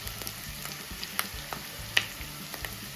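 Onions sizzle steadily in a hot pan, close and even, with light crackles and a few sharp pops and spatula taps, no talking.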